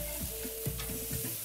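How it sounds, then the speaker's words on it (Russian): Meat sizzles steadily on a covered grill, a constant crackling hiss with small pops and scrapes, close and fairly quiet. "Закройте крышку и продолжайте жарить."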